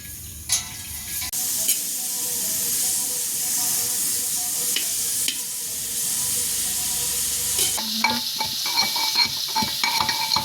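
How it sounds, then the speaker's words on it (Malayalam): Onions frying in coconut oil in a home kitchen pan, a close steady sizzle and hiss with occasional scraping stirs and clinks of utensils, growing busier toward the end. "സവാള ഒക്കെ വാട്ടി കറി വയ്ക്കാനായിട്ട് കുറച്ച് വെളിച്ചെണ്ണ ഒഴിക്കാണ്."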